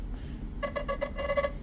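A Nothing Phone (3) plays one of its Nothing Signals ringtones: short, bright electronic tones with rich harmonics in two quick rhythmic bursts of about four pulses each. A low hum sits underneath.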